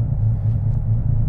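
A Nissan 300ZX fitted with a Carbonetics triple-disc carbon clutch idles with a low, steady, pulsing engine rumble, close and continuous for a moment with no talking.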